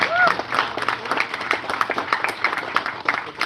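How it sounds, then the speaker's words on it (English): Audience applause at a community event, uneven clapping from a modest crowd, close and fairly loud, with scattered voices and cheers mixed in. "Can we give another round of applause?"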